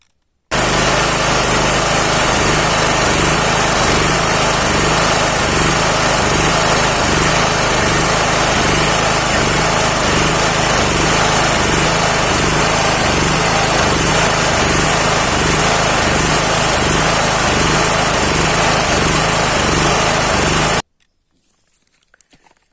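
A 7.5 hp generator engine runs close and loud with surging, unsteady revs, its pulsing drone rising and falling for about twenty seconds before cutting off abruptly into near silence.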